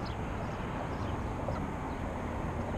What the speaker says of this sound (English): chasing the geese here